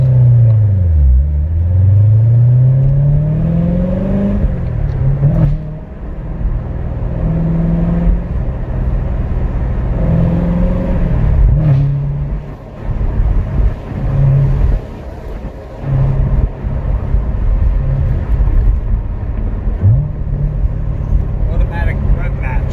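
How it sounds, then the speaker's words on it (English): A stock-exhaust Chevrolet C7 Corvette Z06 rumbles and revs in repeated rising and falling blips, deep and close, while someone talks over much of it. "The exhaust sounds fantastic, even for a stock exhaust."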